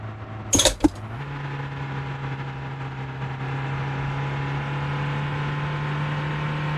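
A car engine in the driving game Motor Town hums at a steady low drone, running alone after a brief burst of clatter near the start and holding an even, constant tone throughout.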